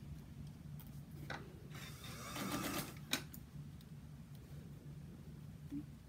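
A sewing machine stitches a fabric bowl cozy in quiet bursts, its needle whirring and clattering over a steady low hum, with a sharp click partway through; no one speaks.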